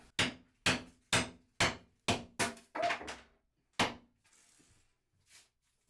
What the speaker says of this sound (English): We're gonna smash these up and see what happens.